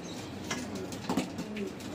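Soft, low pigeon cooing murmurs faintly beneath steady background hiss, with a few quiet flutters.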